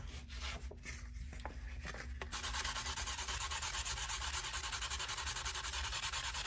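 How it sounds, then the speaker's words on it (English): Steady rhythmic rasping of wet sanding with 600 grit wet/dry sandpaper on a misted plastic model kit, back-and-forth strokes repeating evenly after a few quieter scrapes at the start. "it's time to start sanding. And I'm using 600 grit wet dry"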